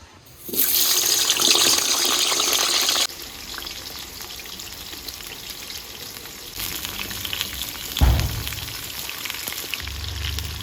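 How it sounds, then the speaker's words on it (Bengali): Potatoes frying in oil in a hot wok start with a sharp, loud hiss that drops to a steadier, quieter sizzle, broken by a brief thud and occasional clatter near the end. "কড়াই গরম হয়ে গিয়েছে, তেল দিয়ে দিচ্ছি।"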